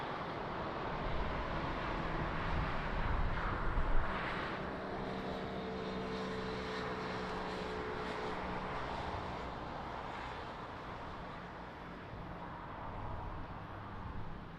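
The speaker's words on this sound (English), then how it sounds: "Another little private jet on final." A small private jet on final approach to Lisbon Airport roars steadily for the whole stretch, a loud, broad engine rush with no voices over it.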